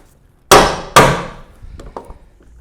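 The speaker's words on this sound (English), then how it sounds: "So I'll go ahead and set that hole fast as soon as the mallet reappears." Two sharp mallet blows drive a holdfast into a Moravian workbench, each a loud ringing clang with a short decay, followed by faint knocks and handling sounds.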